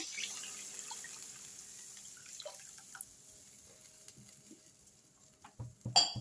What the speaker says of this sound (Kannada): ಇದೇ ಲೋಟದಲ್ಲಿ ಎರಡು ಲೋಟ ನೀರು ಹಾಕ್ತಾ ಇದ್ದೀನಿ